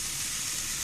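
Sliced onions sizzle in hot mustard oil, a continuous close frying hiss holding level and unbroken for the whole moment, with no talking.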